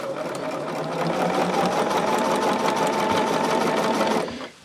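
A sewing machine stitches fabric panels for a pouch, running as a steady, close, continuous whir that holds at one speed for about four seconds before stopping abruptly.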